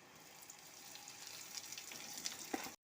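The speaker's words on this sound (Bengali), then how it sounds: "আমি পেঁয়াজটাকে লাল লাল করে ভাজা হওয়া অবধি ওয়েট করবো" Chopped onion frying in oil with browned garlic in a pan for a green-banana peel paste dish, a steady soft sizzle with faint crackles throughout, cutting off abruptly near the end.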